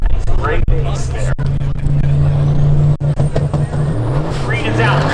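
Race cars, an Audi among them, launch off the line at a spectator drag race at Seekonk Speedway: a loud, sustained engine roar with droning low tones and brief dips, under a commentator's voice and crowd noise.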